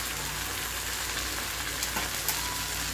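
Flour-coated food frying in a pan at home, producing a steady, dense sizzle and crackle that fills the whole stretch at close range with no talking.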